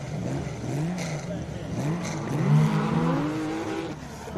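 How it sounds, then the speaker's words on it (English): A Porsche race car launches off the line at a hillclimb, its engine rising and revving in quick sweeps, heard muffled and moderately distant under a commentator's voice. "we can hear and feel that Porsche through the walls of the commentary box, leaving the line there"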